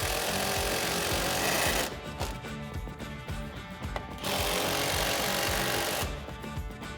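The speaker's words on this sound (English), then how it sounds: "grab your 15 socket and wrench and tighten them down" A socket wrench tightens nuts on a Rough Country 2-inch leveling lift kit fitted to a 2007-2018 Silverado or Sierra 1500, heard as two loud, close bursts of rapid mechanical rattling separated by a quieter stretch.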